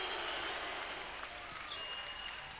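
A basketball crowd in an arena at a FIBA U22 World Championship game in Melbourne claps in a steady wash of applause, with faint cheering mixed in. No clear speech stands out.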